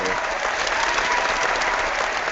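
Steady, enthusiastic applause from a crowd fills the whole moment, a dense clatter of many hands clapping without pause.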